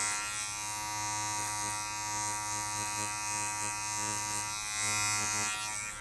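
An electric beard trimmer buzzes steadily and close up while trimming a beard at home, a constant motor hum with slight shifts in pitch as it moves through the hair.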